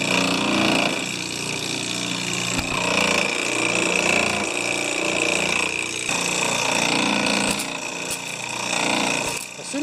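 A John Deere A18 pressure washer runs with its pressure up and a leak at a seal, giving a loud, continuous mechanical drone with a steady high whine and a few brief knocks.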